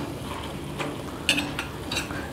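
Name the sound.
mashing cooked tomatoes in a pan with a steel bowl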